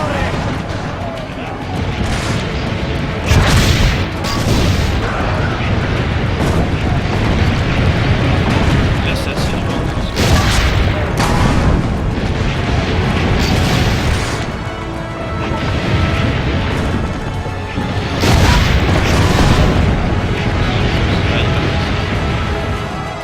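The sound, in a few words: cannon fire explosions in video game Assassin's Creed Brotherhood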